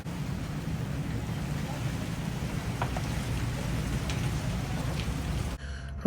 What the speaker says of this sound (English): of course the obligatory rain shower